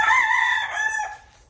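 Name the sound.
chickens, rooster crowing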